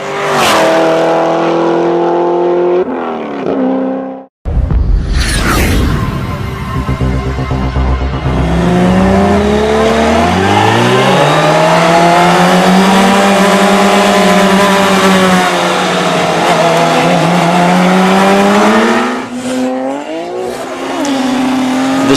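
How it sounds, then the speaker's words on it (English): A Toyota Supra and a Lamborghini racing: loud, continuous engine roar with rising and falling revs through several gear changes, a brief cut near the start, then a long sustained high-revving drone, close and with no voices. "The Supra allows the Lamborghini a little bit of a jump, knowing that it's got enough horsepower to chase it down"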